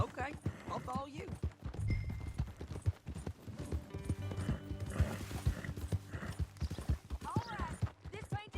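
Horse hooves clip-clop at a steady walking pace in Red Dead Redemption 2, close and moderately loud, with a brief whinny and a voice talking over the hoofbeats.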